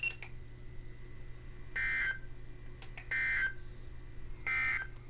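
NOAA weather radio sends an EAS test alert as three short bursts of harsh digital data tones, evenly spaced and separated by pauses over a low steady hum.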